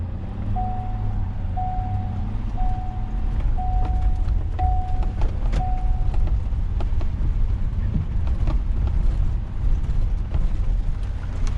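A 2021 Ford F450 pickup hauling heavy loads, heard from inside the cab: a steady, loud low drone of engine and road noise with a faint repeating tone early on, running throughout.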